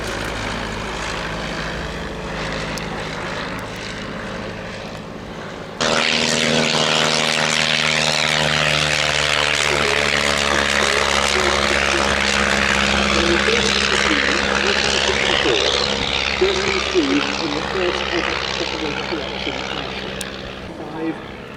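A vintage Arrow Active 2 propeller aircraft engine drones steadily, then surges to a loud roar that holds as the plane takes off and gradually fades into the distance.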